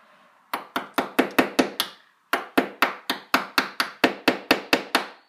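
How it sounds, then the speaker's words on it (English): A very small hammer taps sharply on a candle holder being made, a steady run of about seven hits, a short pause, then a longer even series of about twelve, close and crisp with no voices. "Now we're just going to take my little hammer"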